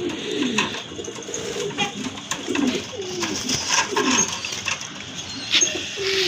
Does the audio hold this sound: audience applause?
no